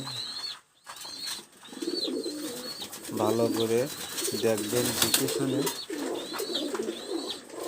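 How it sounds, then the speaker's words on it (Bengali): Pigeons coo in soft, repeated rolling calls close by, with occasional faint chirps and wing flutters, while someone talks over them. "কবুতর যদি ভালো পছন্দ হয় চয়েস হয় তাহলে অবশ্যই যোগাযোগ করবেন"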